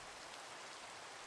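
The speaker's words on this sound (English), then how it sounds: "even though it's raining now" Rain falls in Minecraft as a soft, steady hiss, faint and even throughout, with no voices.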